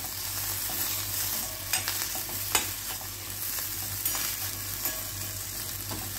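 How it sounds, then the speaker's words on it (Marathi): Potato bhaji with crushed peanuts stirred and sautéed in a pan, a steady soft sizzle running throughout with a few sharp spoon scrapes and clinks standing out, no voices. "आता परत थोडंसं मिक्स करायचं, 2 मिनिटं नीट व्यवस्थित परतून घ्यायचं।"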